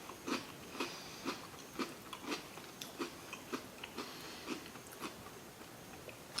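Someone chewing a mouthful of unicorn Fruit Loops cereal, with a steady run of about a dozen crisp, close crunches at a regular pace and no talk.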